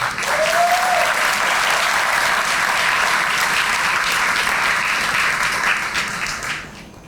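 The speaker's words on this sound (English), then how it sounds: "Let's give Mr. Cordell Sheffield another round of applause" A sustained round of audience applause at a police district community relations awards ceremony, steady and full for several seconds before tapering off at the end.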